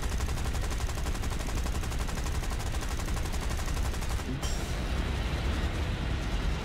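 Continuous rapid machine gun fire from a fighter plane in War Thunder, a steady unbroken rattle over constant engine drone, with a brief break before the firing continues.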